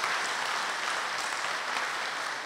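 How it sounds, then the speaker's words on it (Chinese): A church hall audience at an anniversary concert applauds a choir in a steady, dense wash of clapping that carries on without a break. "给他们掌声啊"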